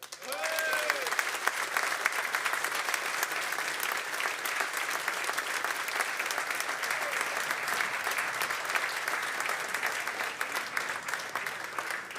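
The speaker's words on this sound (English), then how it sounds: "I'd say fair to say, Brian, the loudest round of applause Kilkenny man has ever gotten in Dungarvan" A packed audience in Dungarvan gives a Kilkenny guest a loud, sustained round of applause, with dense clapping and some cheering holding steady for about twelve seconds.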